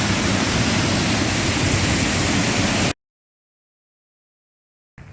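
Nearby waterfalls give a broad, steady roar of rushing water for about three seconds. It then cuts to near silence, and the roar comes back faintly just at the end.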